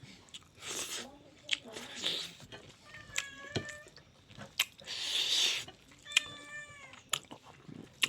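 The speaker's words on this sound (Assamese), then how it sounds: "মেকুৰীয়ে চিঞৰিলেই নহয়, আকৌ মেকুৰীক দিব লাগিব" A cat meows several times, clear and fairly close, between bouts of crunchy chewing and a person talking quietly.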